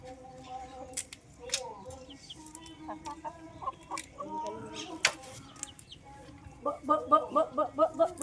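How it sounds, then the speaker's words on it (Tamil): Chickens cluck and chatter nearby, with short bursts and a quicker run of clucks near the end; a person talks faintly in the background. "கோழி"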